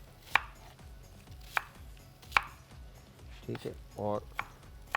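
A knife chops two onions into pieces on a cutting board in a kitchen, sharp knocks landing at an uneven pace with a few clatters, close and clear under someone speaking briefly in Hindi.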